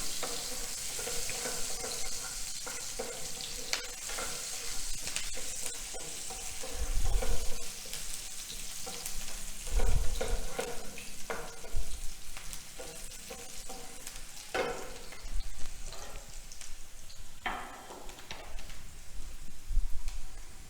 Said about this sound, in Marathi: कांदा आपल्याला फार ब्राऊन नाही करायचा ट्रान्सपरंट करायचा आहे